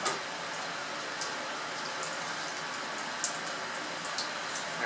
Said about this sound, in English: pull this line off and let it drain into the sink